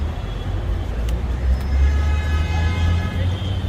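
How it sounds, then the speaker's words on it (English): Busy Mumbai railway terminus ambience from the British colonial era: a low rumble of trains and traffic, a brief horn tone, and faint voices in the background. "It's a railway station."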